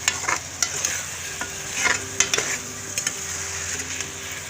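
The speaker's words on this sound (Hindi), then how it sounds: "ये बीफ कलेजी और आलू की बुनाई हो रही है" Beef liver and potato pieces sizzle in a pan over a steady frying hiss, with a spatula stirring and scraping in irregular close clicks and scrapes throughout.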